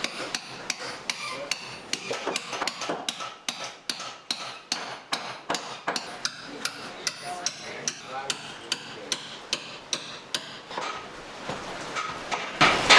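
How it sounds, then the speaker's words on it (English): A small hammer drives fastenings into wooden hull planking during boatbuilding, striking in a quick, steady series of sharp taps for the whole stretch, close and loud with no talk over it. "how come you're using such a tiny hammer?"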